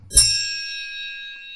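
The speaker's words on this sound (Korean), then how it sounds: "초인종을 눌렀어요." A doorbell rings once, a single bright metallic ding struck sharply and then left to ring out and slowly fade over a second and a half, clear and alone.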